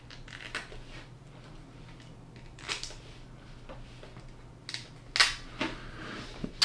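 Plastic front differential cover snapping onto an Axial SCX10 III AR45P axle during assembly, with a few sharp close clicks and snaps standing out above quiet handling noises and a steady low background hum.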